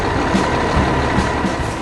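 A red tow truck arrives at an accident where a white truck cab has tipped over; a loud, steady engine drone fills the scene with a faint beeping tone on top, close and continuous, no voices.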